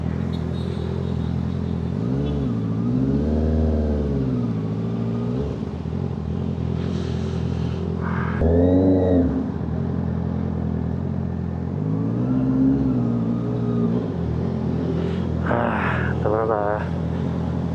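A 2025 Honda CBR650R with an SC Project exhaust idles with a steady rumble, then revs several times in sweeping rises and falls, close by, with occasional voices around it.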